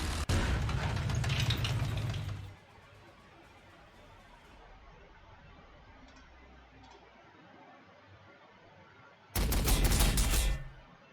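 Bursts of rapid gunfire in Warhammer 40,000: Sanctus Reach, a dense volley for about two seconds, a long quiet stretch, then another loud burst near the end.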